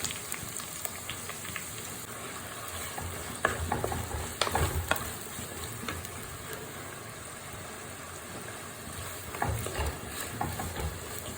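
Chopped onion and green chillies sauté in a hot pan for a Kerala-style fish curry, with a steady sizzle and occasional scraping stirs that grow louder around the middle and near the end.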